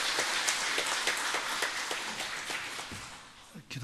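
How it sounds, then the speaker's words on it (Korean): A church congregation in a Korean service applauds to welcome the pastor, giving dense, steady clapping that fades slightly toward the end. "박수로 환영해 주시기 바랍니다."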